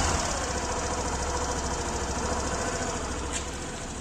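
A Suzuki Access 125 scooter engine idles steadily just after starting, a close, even mechanical drone with a rapid putter that holds for several seconds and eases slightly near the end.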